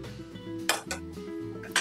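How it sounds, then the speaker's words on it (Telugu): A metal lid set onto a cooking pot of simmering egg masala paste, sharp metallic clinks and a short rattle over a faint hum, close and brief, with no voices. "దీన్ని కూడా మూత పెట్టేసి"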